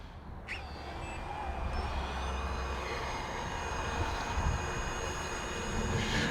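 A DJI FPV drone with stock or dual aftermarket antennas takes off, its motors rising into a steady high whine and buzz over a broad rushing noise, close and sustained.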